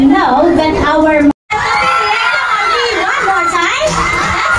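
A large audience of children and adults shouts and cheers at a dolphin show, dense loud whooping and screaming from a close crowd, briefly cut off before resuming just as intensely.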